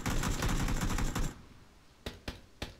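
Rapid burst of video-game gunfire blasting at a door, a dense automatic stream for over a second, then three sharp separate shots after a short pause, loud and close.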